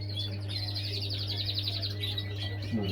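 Pet birds chirp and tweet continuously in a home aviary during cage building, a busy high twittering chorus over a steady low electrical hum, with no talking.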